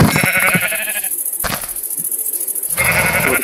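Sheep in Minecraft bleat in two bursts, a wavering harmonic cry at the start and another near the end, separated by a brief thud and quieter gap, over a steady high hiss.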